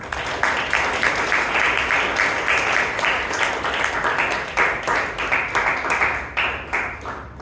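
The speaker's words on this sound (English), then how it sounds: "let's give Toastmaster Amrith a round of applause" Members at a Bangalore Toastmasters club meeting applaud a presidential address, a full room of hands clapping in a dense, even wash that holds for several seconds and then tapers into scattered claps.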